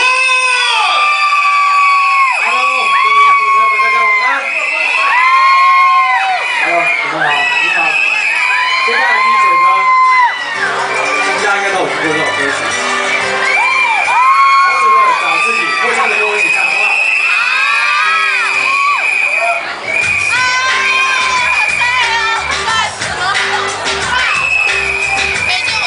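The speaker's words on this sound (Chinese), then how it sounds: "来，尖叫声有请" A concert audience screams and cheers for a singer at an evening music event, a loud, unbroken roar of shrill shouts and whoops that holds for the full length.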